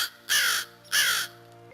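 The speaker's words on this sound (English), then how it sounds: "this is an American crow. You can tell by that call." American crow calling outdoors in woodland, two loud harsh caws in a row, clear and fairly close, with no other sounds around them.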